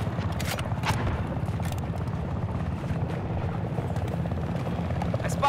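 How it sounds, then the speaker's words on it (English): An enemy helicopter in the video game Battlefield 4, a steady rhythmic rotor chop that holds throughout, with faint gunfire-like bursts mixed in. "I spotted an enemy chopper."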